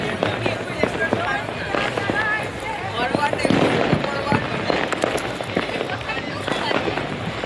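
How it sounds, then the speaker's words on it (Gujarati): Many firecrackers pop and crackle in rapid irregular bursts during the Vasi Uttarayan festival, some near and some farther off, with voices talking in the background. "ફટાકડા ફૂલ ફૂટવાના ચાલુ થઈ ગયા જો કેટલા ફટાકડા ફૂટે છે આજે"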